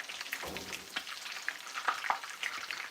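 Soft, quiet sizzling of meatballs frying in a pan for spaghetti, a gentle continuous crackle with small pops and faint stirring.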